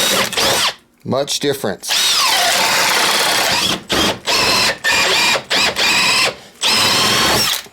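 Makita cordless drill with a ratcheting chuck running in high range, loud whining bursts that start and stop repeatedly, some long and some short, with brief speech in between.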